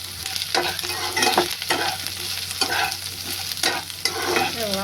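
Okra and onion frying in a pan for a village-style wild vegetable dish, with a busy continuous sizzle and rhythmic spatula stirs scraping the pan, close and fairly loud, no talking.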